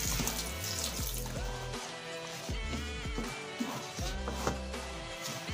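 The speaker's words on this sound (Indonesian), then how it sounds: "Tambahkan dikit-dikit aja airnya" Water is poured a little at a time into a mixing batch meant for 15 liters, a close trickling and splashing stream with gurgles that rises and falls in pitch, and no talk over it.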